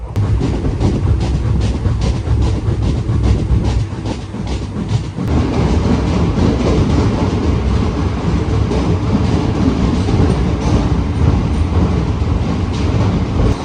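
A Pune-Ernakulam Superfast Express train (22150) moves slowly through a tunnel under maintenance work, giving a loud, steady rumble with continuous rattling wheel clatter throughout.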